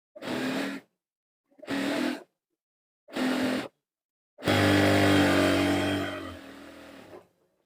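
An electric sewing machine stitches the side seam of a round-neck maxi dress from sleeve to hem, running in three short bursts before one longer steady run that tapers off, close and alone.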